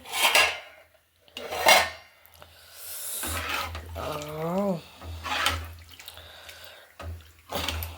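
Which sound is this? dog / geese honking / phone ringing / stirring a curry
stirring a curry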